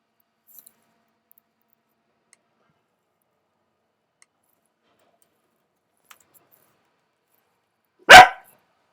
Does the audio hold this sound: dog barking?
yes